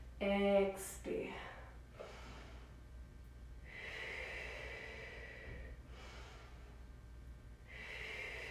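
During prenatal yoga, audible breaths are drawn and exhaled in slow, soft, breathy waves, spaced a couple of seconds apart, faint and near, after a brief voiced sound at the start.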